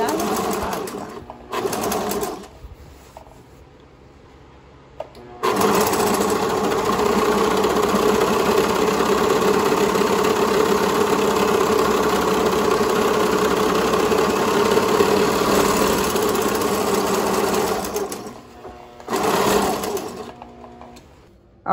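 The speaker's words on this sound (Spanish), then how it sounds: "Ahora pasamos a la máquina de overlock o filetear a hacer las terminaciones." An overlock serger finishes fabric seams on a pair of shorts, whirring in a loud, steady, fast continuous drone for about twelve seconds, with briefer runs before and after and a person speaking in the quieter gaps.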